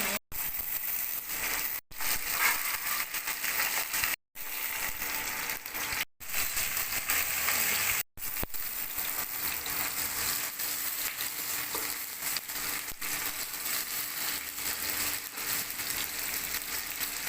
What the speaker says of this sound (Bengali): মাছগুলো খুব কড়া করে ভেজে নিচ্ছি, লাল লাল করে